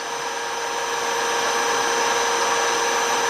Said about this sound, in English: you'll see the edge finder, it stops rattling around